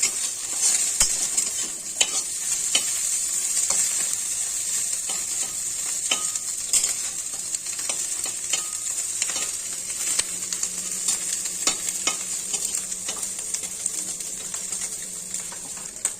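Small tangra fish fry in hot oil, a steady close sizzle running the whole time with scattered light clicks and taps of a utensil against the pan.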